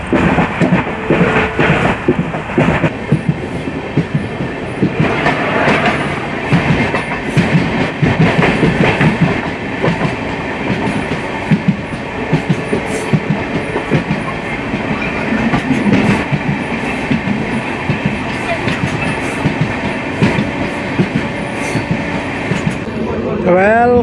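The Pamban Express on the Rameswaram–Tambaram run rolls along the rails toward Karaikudi Junction, a loud, continuous rumble with steady wheel clatter close by and voices talking over it.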